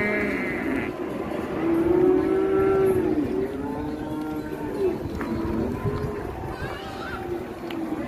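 A cow breaking loose moos a few times amid a noisy outdoor scene, with people talking and commotion around.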